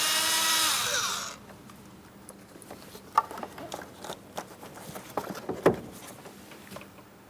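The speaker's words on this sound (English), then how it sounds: "We'll loosen the clamp just enough we can remove this from the throttle body." A worm-drive hose clamp, 8mm, being loosened on the throttle body inlet tube of a 2008-2016 Chrysler Town & Country 3.8L V6: a loud buzzing power driver whirs for about a second, then quiet scattered clicks and taps of tool handling.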